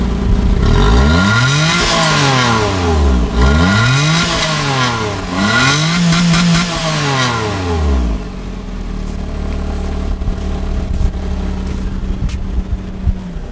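A Daihatsu Mira e:S kei car revs its engine through the muffler in repeated rising-and-falling blips, loud and close, before settling into a lower idle with faint clatter.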